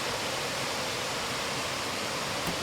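The River Dee runs past boulders where it joins another river, giving a steady, close, broadband rush of flowing water with no voices over it.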